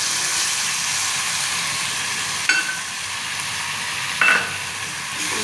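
Onion, tomato and spice paste frying in a pan, a steady close sizzle with soft stirring scrapes and two brief louder crackles partway through.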